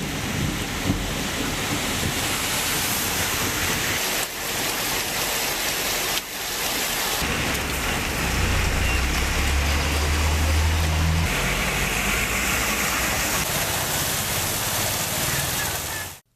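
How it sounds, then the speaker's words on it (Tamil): Heavy rain with thunder and lightning pouring down in Tamil Nadu, a dense, continuous hiss with gusty wind-like buffeting and a low rumbling swell midway. "பலத்த மழை பெய்தது."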